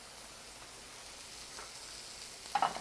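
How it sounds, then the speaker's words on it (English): Steak and butter sauté in a hot oiled pan, giving a faint, steady sizzle that swells slightly, with a couple of brief louder crackles near the end. "you can actually hear the sizzling of the sautéing"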